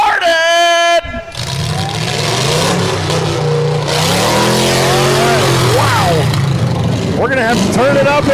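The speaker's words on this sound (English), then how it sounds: "Those first 6 cars, fire them up." Demolition derby cars with V8 engines firing up and roaring in an Ohio arena: a continuous, heavy engine rumble with revving surges that builds and holds, mixed with crowd noise and voices.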